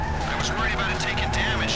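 In a GTA video game, a car engine roars while tires squeal and skid in a brief, loud, continuous burst close by.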